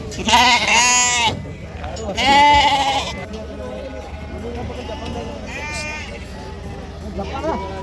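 Sheep and lambs bleat loudly and repeatedly at a livestock market in Amingad, Karnataka, with long cries coming in bursts. Someone talks over the animals and the crowd noise.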